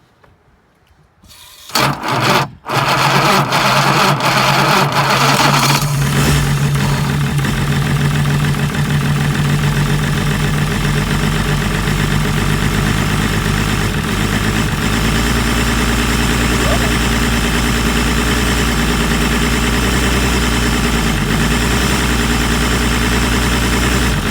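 A 2002 ex-police car engine cranks briefly after a near-silent start, fires up and settles into a loud, steady, slightly rough idle that holds to the end.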